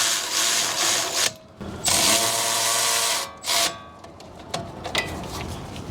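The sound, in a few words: tightening the brake caliper bolts on a Lexus LX 570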